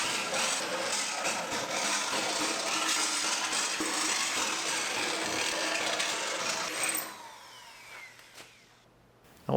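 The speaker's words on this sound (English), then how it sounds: "Then we'll drill the 5/16 holes." A power drill cuts 5/16 inch holes through the spot welds of a 1965 Mustang steel body, a loud continuous grinding whir up close that winds down and stops near the end.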